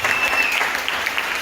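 Audience applause at a church teaching session welcoming international visitors: dense, steady clapping from a crowd filling the whole moment, close and loud with no voices.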